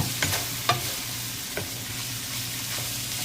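Water spinach stems are stirred in a frying pan for adobo, making a few soft scrapes and taps over a faint, steady sizzle.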